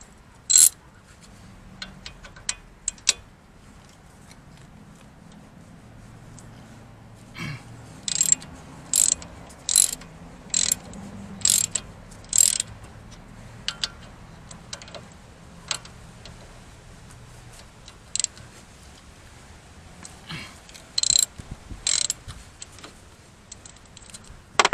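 A ratchet loosens a T55 bolt on the wheel upright of a Porsche Boxster, giving bursts of sharp, close clicking. The clicks come in uneven clusters with pauses between them.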